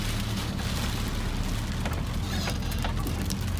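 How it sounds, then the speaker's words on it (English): Steady, dense rain roars close by on a farm in Australia, driven sideways by gusty wind, a continuous wash of hissing noise with no voices. "The rain's coming in pretty much sideways."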